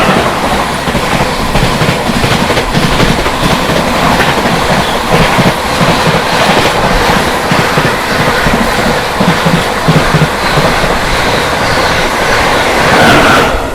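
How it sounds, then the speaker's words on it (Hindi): Amrit Bharat Express train 22362, New Delhi to Rajendra Nagar Terminal, passes close by with loud, continuous rumbling and rhythmic clickety-clack of wheels over rail joints throughout. "सामने से आती हुई 22362 new Delhi Rajendra Nagar terminal Amrit Bharat express."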